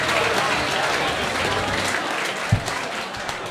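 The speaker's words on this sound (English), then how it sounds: "Big round of applause for Tommy Taylor." Steady applause from a crowd, dense and continuous clapping throughout with a single sharper thump near the middle.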